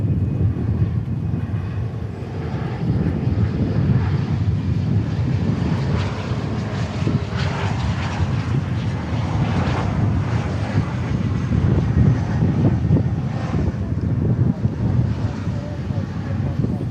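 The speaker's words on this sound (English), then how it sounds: "CRJ landing." A CRJ regional jet landing at Dallas Fort Worth Airport, heard as a steady, loud engine roar with wind buffeting the microphone, continuous throughout.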